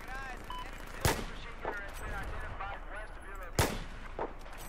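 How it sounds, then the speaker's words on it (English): Gunfire in the video game Battlefield 4 cracks in two sharp, distant-sounding shots over a busy background of game effects and faint chatter, fairly quiet overall. "Let's see what else we can shoot."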